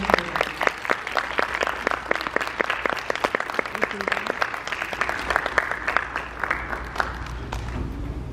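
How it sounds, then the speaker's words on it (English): An audience at a school math competition for first graders claps for two contestants, a dense burst of close, bright applause that continues steadily for several seconds before slowly thinning out. "Let's go ahead and give a great round of applause for Mark and Abigail."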